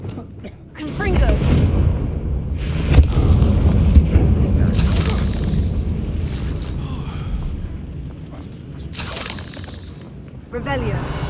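Confringo blasting spells explode in the Hogwarts Legacy video game, a heavy low rumbling boom that swells early and rolls on for several seconds, with further bursts and crackling debris near the end.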